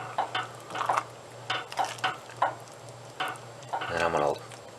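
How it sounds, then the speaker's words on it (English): A spoon stirs cinnamon and raisins into rice pudding in a pan, making soft scraping and clinking strokes in uneven bursts that end in a longer, steadier stir. "I'm going to go ahead and stir these in"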